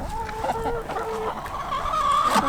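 Farm chickens clucking while being fed breakfast, several close, steady murmuring clucks and short calls overlapping in a continuous low chatter, with no talking.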